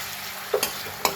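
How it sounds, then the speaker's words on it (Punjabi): Chopped chili dropped into a hot pan for besan and capsicum curry, giving brief stirring and sizzling bursts in a few quick spurts over a steady low frying hiss. "ਹਾਂਜੀ ਹੁਣ ਦਿੱਤੀ ਆਪਾਂ ਜਿਹੜੀ ਮਿਰਚ ਕੱਟੀ ਆ ਉਹ ਪਾ ਦੇਣੀ"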